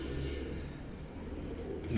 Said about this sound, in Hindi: दो कबूतर आए हुए हैं